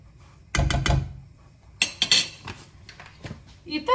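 Metal utensil scraping and clanking against a pan while stirring flour into oil, in short bursts, close by, with a faint background hum between strokes.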